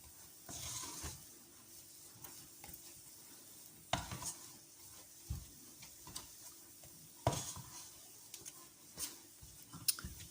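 Churro dough being stirred and dried in a hot pan, with soft scraping and tapping of the utensil against the pan in irregular bursts, a faint sizzle underneath and a few sharper clacks.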